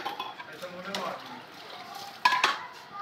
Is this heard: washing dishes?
yes